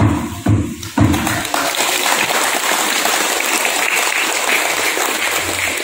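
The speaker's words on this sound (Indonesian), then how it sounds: "Saya buka dengan 3 ketokan ya." Three loud knocks on a table or lectern open a Ramadan pesantren event at a mosque in Purwakarta, followed by applause from the gathered audience.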